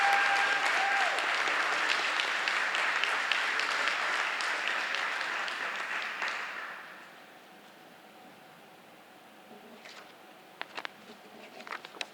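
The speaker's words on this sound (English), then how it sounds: "Let's give them a big round of applause." Steady audience applause at a middle school eighth grade recognition ceremony, dense clapping for about six seconds that fades into a quiet room with a few scattered late claps.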